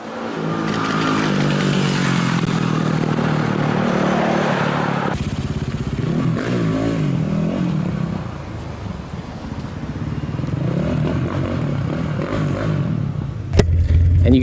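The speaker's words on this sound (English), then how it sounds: "here's some clips of him ripping around Beverly Hills on his supermoto," A supermoto motorcycle tears through Beverly Hills city streets, its engine roaring continuously and loud with revving surges, clatter and road noise, and a brief sharp crack near the end.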